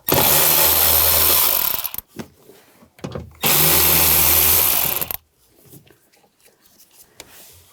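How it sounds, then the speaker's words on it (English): A power tool with a 7mm socket drives out screws from a rear speaker in a 2013-2016 Dodge Dart, giving two loud, close whirring bursts of about two seconds each, with quiet handling clicks between and after them. "Now we'll take these two screws out. I'm going to use a 7mm socket."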